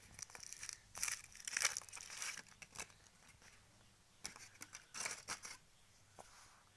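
A surprise toy package is opened up close: crisp crinkling and tearing of plastic wrapping in irregular bursts, fairly quiet, with no talk.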